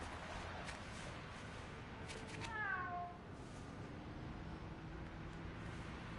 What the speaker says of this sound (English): You ready to swing, Spider-Cat?